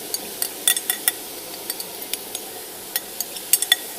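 Food sizzling in a frying pan during a live chef cooking demonstration at a hospitality convention, heard as a steady crackling hiss dotted with sharp pops and spits, close up with no talking.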